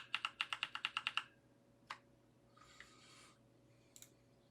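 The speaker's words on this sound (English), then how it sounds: "we've got a couple people typing in Discord" A burst of rapid computer keyboard typing, roughly ten quick even keystrokes, followed by a few scattered clicks and faint rustles over a low steady hum, with no one talking.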